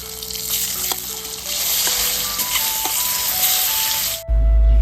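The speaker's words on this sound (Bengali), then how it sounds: "তারপরে লবণ হলুদ দিয়ে ডিমটা ভালো করে ভেজে নিলাম" Halved boiled eggs frying in a pan with salt and turmeric, a loud steady sizzle with faint stirring scrapes, ending abruptly in a low rumble.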